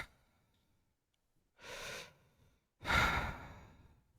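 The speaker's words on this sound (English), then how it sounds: "I assume that's heavy breathing." Heavy breathing comes through a speakerphone, two long audible breaths separated by silence, the second louder and rougher, slightly muffled and distant.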